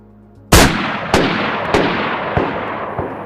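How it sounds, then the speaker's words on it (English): Five shots from a BK-133 pump shotgun in DayZ, heard up close: a loud sharp blast, then four more spaced roughly evenly at a slow steady pace, each leaving a long rumbling tail. "The BK-133 at close range is one of the loudest weapons in DayZ"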